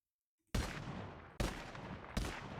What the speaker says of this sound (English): we should hopefully have, well, gunshot sounds.